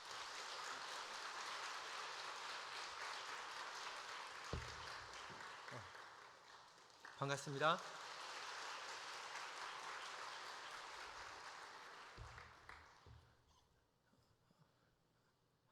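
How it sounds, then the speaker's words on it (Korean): Church congregation clapping in sustained applause for a missionary at an afternoon worship service, a broad steady wash of many hands that swells briefly, then fades out as a voice speaks a short greeting. "우리 박수로 선교사님 격려하겠습니다."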